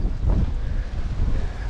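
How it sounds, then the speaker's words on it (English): Wind blows steadily on a seashore at Kilmore Quay, a loud, continuous low rumble buffeting the microphone with faint surf-like hiss beneath. "It's always windy by the sea."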